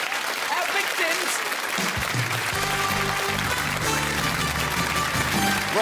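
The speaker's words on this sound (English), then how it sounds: "give a nice round of applause, folks" Studio audience applause on a television game show, a steady dense wash of clapping at even loudness, with a voice and music-like tones sounding over it partway through.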